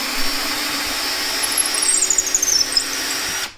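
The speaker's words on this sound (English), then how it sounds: "if we want to take the bit out, we're going to press this reverse button in" A DeWalt DCD771 cordless drill runs in reverse to back its bit out, a loud, steady motor whine with a high squeal sliding downward before it winds to a stop.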